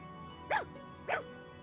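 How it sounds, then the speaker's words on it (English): A white dog in the video game Fire Emblem Engage gives two short, clear barks about half a second apart, each a bright yip over a faint steady game background. "Adopt a white Eliosian dog. Come, puppers."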